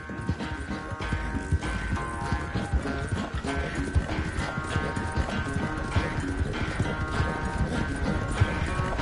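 Horse hooves clop in a steady trotting rhythm in the Western video game Red Dead Redemption 2, set against a soft musical drone, with a whinny-like sound and light rattling mixed in.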